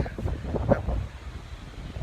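Strong wind buffets the microphone during the flying of a 150 cm chula kite, giving a steady, rough rumble with gusty swells and no speech.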